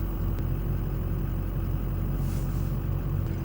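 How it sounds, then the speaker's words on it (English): A concrete truck arrives at a barndominium construction site for an early-morning pour. Its diesel engine gives a steady, close, loud rumble with a droning whir throughout. "All right, so the first truck just now showed up."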